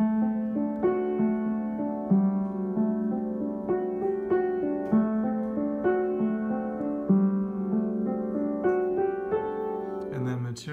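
An accompaniment groove with a calm, gamelan-like feel repeats a steady, pitched rhythmic pattern at moderate level for about ten seconds, with no one talking over it.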